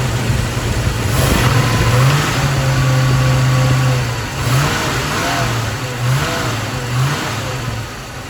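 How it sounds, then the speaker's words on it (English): A 1968 Ford Mustang 428 Cobra Jet V8 engine revs up and down in a deep, rumbling cycle, loud and close, with pitch rising and easing several times over steady idle noise. "The engine sounds great."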